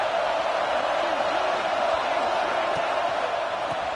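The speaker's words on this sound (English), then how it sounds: "This crowd bringing the energy and noise early." A dense, steady roar of a large video game football stadium crowd, loud and continuous with no pauses, a broad wash of cheering voices.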